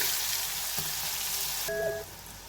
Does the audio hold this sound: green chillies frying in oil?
yes